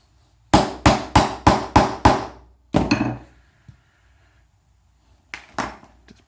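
An A&K Masada ACR airsoft rifle is struck hard during disassembly: six sharp, evenly spaced knocks in quick succession, a heavier single blow, then a couple of lighter taps after a pause, all close and loud.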